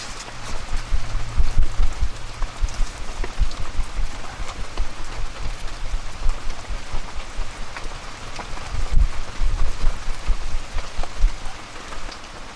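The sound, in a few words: rain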